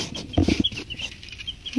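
A young chicken perched on the rim of an uncovered hopper feeder, giving a few short, close clucks in quick succession against a quiet background.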